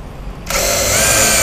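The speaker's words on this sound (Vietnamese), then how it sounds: "Đây, bắn vít bốn cạnh đây." A DeWalt impact driver drives a square-head steel screw, its loud, steady motor whine starting abruptly after a quiet moment and running continuously to the end.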